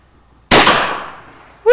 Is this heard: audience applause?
no